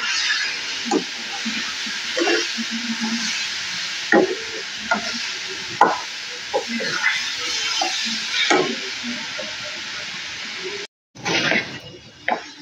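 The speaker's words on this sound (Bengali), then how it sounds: "আরো একটুখানি নেড়ে চেড়ে আমি এটাকে নামিয়ে দেবো।" Coconut filling for dudh puli pitha being stirred in a pan, a soft continuous sizzle broken by repeated scraping taps of a spatula, close and unhurried, with one brief gap.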